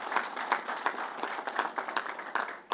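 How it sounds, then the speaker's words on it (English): An audience at a governor's announcement in Nassau County claps for a recognized union leader, a moderate crowd's applause with individual claps distinct, steady then tapering slightly, no talk. "Let's give Matty a round of applause."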